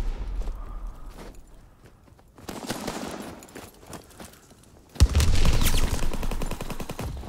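Submachine gun fire from Call of Duty WWII, bursts of rapid shots rising loud in the final seconds, preceded by scattered quieter shots and ambient battlefield noise.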